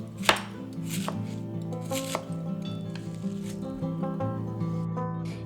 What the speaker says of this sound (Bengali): বাঁধাকপিটাকে আমি কুচি কুচি করে কেটে নিচ্ছি